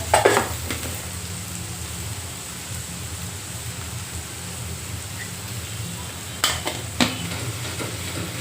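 Chopped onion and tomato sizzle steadily in a pan for a bitter gourd curry, cooked without water, a continuous crackling fry with a few spoon stirs and scrapes near the start and end.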